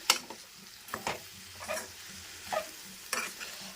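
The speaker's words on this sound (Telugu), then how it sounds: "ఇప్పుడు మొత్తము ఇలా కలిపేసుకోవాలి" Okra curry stirred in a pan, a spoon scraping through the thick mixture in four or five separate strokes at a steady, unhurried pace over a faint background sizzle, close and fairly quiet.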